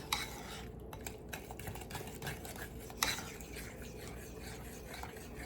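Shortbread bar ingredients mixed in a bowl with a utensil, close scraping and stirring strokes with occasional light clinks against the bowl.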